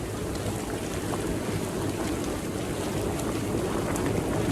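Maple syrup at a rolling boil in an evaporator pan, with a dried-fat defoaming agent shaken on so the foam bubbles burst, gives a steady, dense roar of bubbling and hiss throughout.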